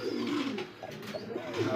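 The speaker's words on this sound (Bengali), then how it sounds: "এটা একটা রেসার কবুতর" Racer pigeons coo in a low, throaty murmur that runs steadily through the moment, fairly close and continuous with soft rises and falls.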